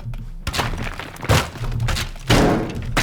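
A building being broken into in the video game Teardown, with three heavy thunks and breaking impacts spaced about a second apart, loud and close, each followed by crumbling debris and no talking.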